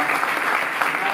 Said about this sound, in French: je vous demande d'applaudir à mon ami.